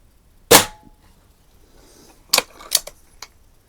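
Daisy 131 break barrel air rifle firing at cans from 7 yards: one sharp crack, then a pause and a quick cluster of snappy pops and clicks as the action works and pellets hit, with no voices.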